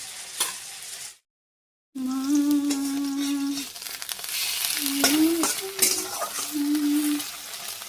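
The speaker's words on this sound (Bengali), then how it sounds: "পটল ভাজা হচ্ছে" Pointed gourd (potol) pieces frying in a pan with a steady sizzle and stirring scrapes, broken by a brief gap of silence, with a sustained tonal hum running over the sizzle.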